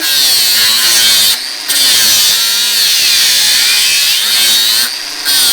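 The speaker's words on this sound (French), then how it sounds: "avec la meuleuse pour faire ma chasse" An angle grinder bites into a Mustad steel horseshoe with a loud, sustained metallic whine, breaking off briefly twice as the disc is lifted from the shoe, then cutting again.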